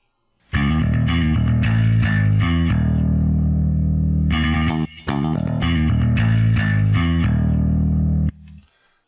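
A distorted, heavily processed bass guitar plays a riff of sustained notes, loud and alone, pausing briefly midway before repeating.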